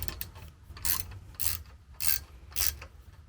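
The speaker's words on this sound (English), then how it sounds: "So I've just got to do the bolts up on the top, get these fairly accurate" Bolts being tightened by hand on a homemade fiberglass 20m monoband Yagi antenna, heard as four short bursts of ratcheting, clicking metal at a steady rhythm, close and moderately loud, with no talking.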